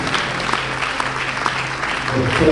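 A church congregation applauding during a wedding blessing, with dense, steady clapping that swells louder toward the end, mixed with faint voices.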